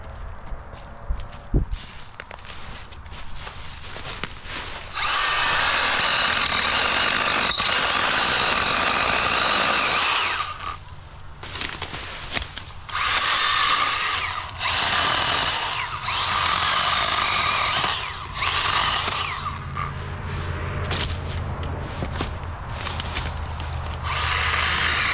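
A Milwaukee M12 battery chainsaw cuts maple and red oak outdoors, loud buzzing cutting bursts of several seconds each, separated by brief pauses where the motor idles or stops.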